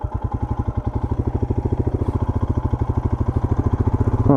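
Royal Enfield Himalayan 2021 motorcycle engine in first gear during very slow manoeuvring, a steady low single-cylinder thump pulsing evenly and close, with a slight rise in revs at the end.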